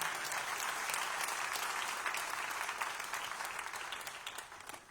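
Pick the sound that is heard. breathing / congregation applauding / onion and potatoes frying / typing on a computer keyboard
congregation applauding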